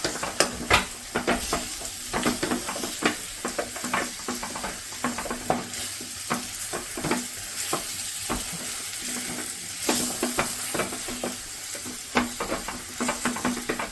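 Potato palya with coriander is stirred in a hot pan, a spoon scraping and tapping in quick repeated strokes over a steady close sizzle throughout.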